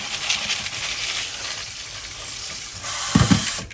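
Dry brown beans rinsed under running tap water in a kitchen sink, a steady close splashing wash with a brief louder burst of clattering near the end.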